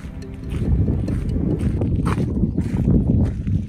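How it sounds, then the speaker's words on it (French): Metal stairs inside a wind turbine tower at Nueil-sous-Faye vibrate in the wind, a constant loud low rumbling drone with faint rattling, heard alone and close. "on entend l'escalier vibrer"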